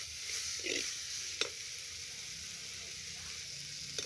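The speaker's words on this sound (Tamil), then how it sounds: "எண்ணெயில் போட்டு வணக்கிறேன்" Cumin and garlic sizzle softly in oil in a pan, a steady faint frying hiss with an occasional light clink of a utensil, close and with no one speaking.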